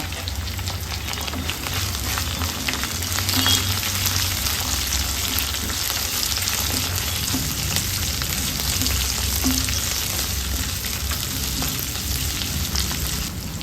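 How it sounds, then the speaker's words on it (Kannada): Coconut, green chillies, spices, garlic, ginger and cashews fry in a pan with a steady, loud, close sizzle that crackles on without pause. "ಒಂದು ಗಡ್ಡೆ ಬೆಳ್ಳುಳ್ಳಿ ಶುಂಠಿ ಒಂದು ಹತ್ತು ಗೋಡಂಬಿಯನ್ನು ಸೇರಿಸ್ಕೊಂಡು ಚೆನ್ನಾಗಿ ಫ್ರೈ ಮಾಡ್ಕೊಳ್ಳೋಣ"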